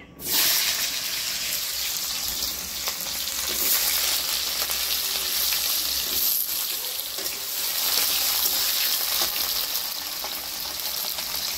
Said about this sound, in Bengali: তেল গরম হয়ে গেছে, তেলে আমি দিয়ে দেবো আলু কুচা